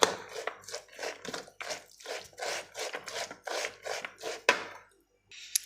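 Green salad dressed with chili sauce, salt and black pepper being tossed and mixed in a bowl, with a steady run of rhythmic rubbing, scraping strokes close up, each stroke distinct, then a brief pause before it resumes faintly.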